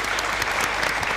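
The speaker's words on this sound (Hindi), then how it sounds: "तालियां बजाओ यार, सही आंसर है।" Audience clapping on a game show after a correct answer: a short, loud burst of many hands applauding together, steady and close, with no voices over it.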